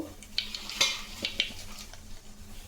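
Cinnamon bark and cloves crackle in a little hot oil in a pan, with short sputters and a few light stirring clinks over a faint sizzle. The sound is close and brief, with no voices.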